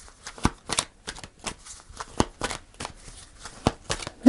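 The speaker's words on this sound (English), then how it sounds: "So let's pull a final fairy card." Fairy tarot cards being shuffled and pulled, heard as a rhythmic series of sharp riffling snaps about twice a second, close and clear, with no talking over them.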